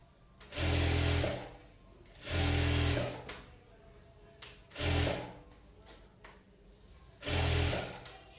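A sewing machine stitching invisible thread piping, running in four fast, loud whirring bursts about a second long, separated by short quiet pauses and faint handling sounds.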